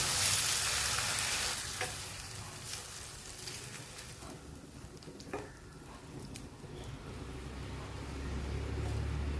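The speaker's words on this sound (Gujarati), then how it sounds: "સ્લો ટુ મીડિયમ ગેસ પર આપણે આદુને શેકી લઈશું।" Grated ginger roasts in a pan over a slow-to-medium gas flame for ginger paak, giving a quiet, continuous sizzle that swells slightly toward the end.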